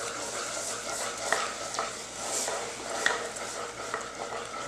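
A whisk or spoon stirs milk into a cooked flour-and-butter roux for a béchamel cheese sauce, giving a steady wet swishing with light scrapes against the pot, close and continuous.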